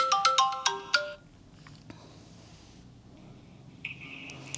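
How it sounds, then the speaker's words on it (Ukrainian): A phone ringtone plays a quick melodic run of tones for about a second, then quiet, with a brief electronic tone returning near the end. "я бачу на телефоні, що телефонує Ігорчик син."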